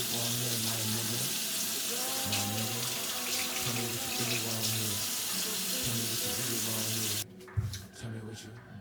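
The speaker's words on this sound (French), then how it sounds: "Des fois, ça fait juste du bien de se raser et prendre une douche" A bathroom tap runs steadily and loudly for several seconds while a man shaves, with a voice speaking over the water before the flow stops abruptly.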